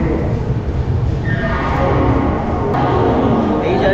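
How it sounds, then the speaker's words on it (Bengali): Howrah–Dhanbad Black Diamond Express with LHB coaches pulling out of Howrah station, a steady loud rumble of rolling rail noise with rising wheel and carriage sounds, no talk. "আমাদের ট্রেন ছেড়ে দিল কিন্তু হাওড়া রেলওয়ে স্টেশন"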